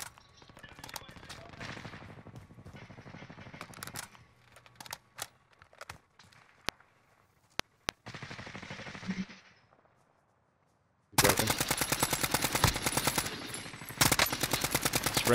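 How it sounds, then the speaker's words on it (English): Gunfire in Call of Duty: Warzone, where a sniper keeps shooting at the player: scattered sharp shots and clicks under talking, a quiet gap, then a loud stretch of rapid, dense gunfire. "He's still sniping at me."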